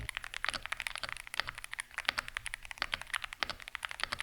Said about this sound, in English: looking at videos of the keyboard, the sound was just as good